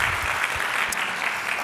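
Audience applause for a host at a weekly Rotary meeting held at a Hilton, a steady even wash of many hands clapping together, moderately loud with no talk over it, lasting just under two seconds.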